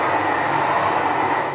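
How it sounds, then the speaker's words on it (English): Metro light rail train running at street level at about 35 miles per hour, a steady broadband rumble and rush holding loud and constant throughout with no voices. "You're looking at these trains coming 35 miles per hour."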